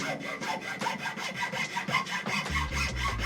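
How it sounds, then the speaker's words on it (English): A coarse, large triangle file cuts a groove into a wooden jeweler's bench pin in quick, rhythmic rasping strokes, about three or four per second, close and steady with no talk. "Now he's going to start with a very coarse, large triangle file to carve out the middle of the groove."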